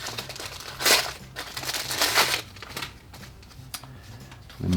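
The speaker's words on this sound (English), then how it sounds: "Parchment paper." Parchment paper wrapped around a new leather wallet crinkles and rustles as it is handled, in bursts of crisp crumpling close up with quieter pauses between.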